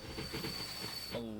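A train rolls in within the railway simulation game Transport Fever 2, its wheels squealing in a thin, sustained high whine over a low clattering rumble, close and steady for a brief moment.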